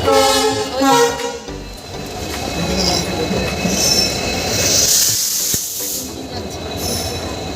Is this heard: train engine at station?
yes